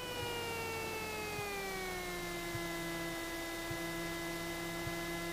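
A Cessna 172 engine throttled back to 1000 rpm drones steadily, its harmonic tones sliding slightly lower and settling into an even hum with faint periodic ticks underneath, ending with a brief click.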